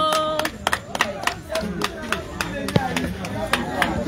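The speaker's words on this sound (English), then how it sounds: "A round of applause for boss lady" A crowd claps at a liquor store and bar's grand opening, sharp scattered hand claps ringing out irregularly and fairly close, with voices murmuring beneath.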